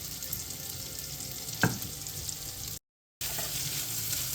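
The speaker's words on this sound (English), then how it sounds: "The bacon's starting to get cooked." Bacon and eggs frying in a skillet, a steady close sizzle with one sharp clack partway through, then a brief dropout before the hiss resumes.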